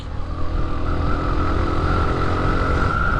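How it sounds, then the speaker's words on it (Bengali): A Suzuki motorcycle on a test ride near a brickfield drones with a steady engine hum and rushing wind noise, holding an even pitch throughout as it cruises. "test bike"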